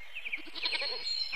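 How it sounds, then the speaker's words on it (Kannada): A goat bleats once, a short wavering cry heard clearly against a quiet background. "ಮೇಕೆ"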